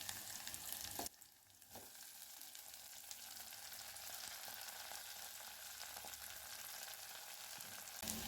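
Ponnaganti greens go into a hot pan with fried onions, green chillies and ginger, setting off a loud, steady sizzle of frying that briefly dips as they land, then crackles on continuously.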